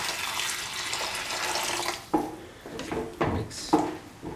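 Water pours into a pot of colocasia and tomato stew, a broad splashing rush for about two seconds, then a few separate sloshes and stirring clatters close by, with no talking.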